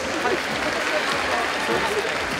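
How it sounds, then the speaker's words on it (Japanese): Audience applause at the MTV VMAJ 2023 awards show blue carpet event, a dense, steady wash of clapping from a crowd, with an announcer's voice over it. "改めて大きな拍手をお願いいたします。"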